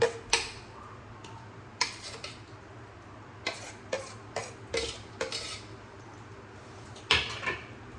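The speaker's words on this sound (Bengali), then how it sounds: "ওই কলাটাকে আমি সুজির মধ্যে মিশিয়ে নেব।" Ripe banana is stirred and mashed into semolina in a bowl for palm fritters: scattered spoon scrapes and clinks against the bowl come in irregular bursts over a quiet background.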